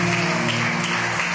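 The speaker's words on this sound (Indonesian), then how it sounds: "Tepuk tangan buat Tuhan." A church congregation claps together during a Sunday morning service, a dense, continuous burst of applause with a steady hum of music or organ underneath.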